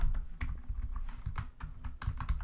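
A computer keyboard is typed on steadily, with rapid close key presses running throughout at a moderate level and no speech.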